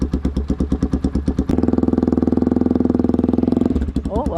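Motorcycle exhaust with an aftermarket muffler during a roadside sound-level check, first pulsing at a lumpy idle, then revved hard at full throttle into a sustained loud drone before dropping back, with a voice briefly near the end.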